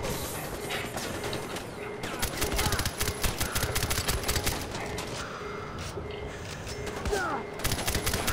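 Rapid gunfire bursts from the Far Cry 4 video game, sustained automatic shots repeating loudly over a constant background, with a voice speaking at times.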